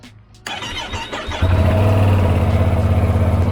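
A Ducati motorcycle engine cranks briefly with the starter, then catches and settles into a loud, close, throbbing idle with a deep, steady pulse.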